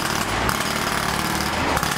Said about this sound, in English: construction, jackhammer, bang, bang, bang, bang, bang, bang, jackhammers.